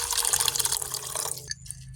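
Water poured into a cooking pot for a stew with beef bouillon, a bright splashing, trickling pour that stops abruptly after about a second and a half, leaving a few faint drips, close and without talk.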